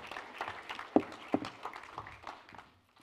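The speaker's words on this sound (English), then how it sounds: "One more big clap for Ashley and for the boys." An audience claps at a church service, with applause scattered and fairly faint through the room. Two sharper claps stand out early, and the clapping fades toward the end.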